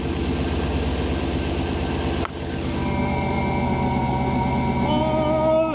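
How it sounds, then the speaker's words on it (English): A built, supercharged 426 engine runs with a steady low rumble, cuts out briefly, then returns as a rising high-pitched supercharger whine layered over the engine, close and fairly loud. "that supercharger noise."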